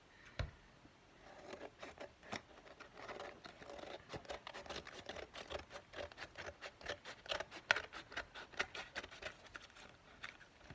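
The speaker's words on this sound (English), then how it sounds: "The scissors doesn't cut this very well." Scissors trimming a fabric tie-back make a long run of crisp, rapid snips and cuts, close up and fairly loud, with no talk.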